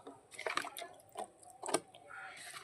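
Water poured onto freshly prepared garden soil before a datura plant goes into a home garden: soft, quiet splashes and trickles in a few short bursts.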